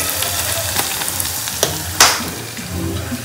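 Loud sizzling of a spice tempering with asafoetida dropped into hot oil, crackling steadily with a sharp burst partway through, no voices.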